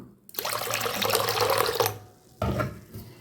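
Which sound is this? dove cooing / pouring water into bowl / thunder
pouring water into bowl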